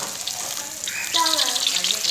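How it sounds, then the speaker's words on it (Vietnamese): Pieces of pork fry crisply in hot oil, a steady close sizzle with bubbling pops that grows louder partway through, while a voice talks faintly. "Thịt heo chiên giòn."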